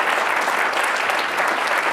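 Steady, dense applause from a large keynote session audience fills the hall, loud and continuous with no break and little talk.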